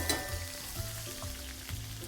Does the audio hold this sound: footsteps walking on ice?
no